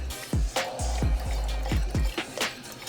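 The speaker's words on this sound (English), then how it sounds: "Now it's time for the heavy cream." Heavy cream poured into a mac and cheese roux in a pan, making wet, squishy liquid sounds with a steady low rumble and a series of soft clicking strokes.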